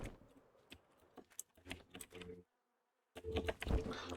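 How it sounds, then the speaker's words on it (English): Angry bees in the Minecraft Cobblemon game make quiet, irregular buzzy bursts in short clusters, stopping for a moment of silence and then returning louder. "I don't know what made the bees angry."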